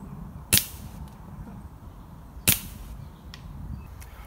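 Two sharp, distinct shots from a Gamo Phox air rifle, spaced about two seconds apart, each a crisp crack standing alone over quiet background.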